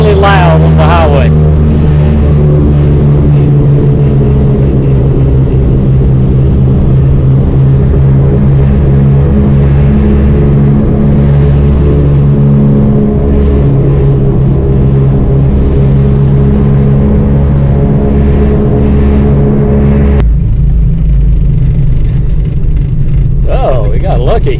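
Tires of a Suzuki Carry kei truck roar loudly on the highway, a constant heavy cabin drone with engine rumble throughout, under occasional talk, easing briefly near the end.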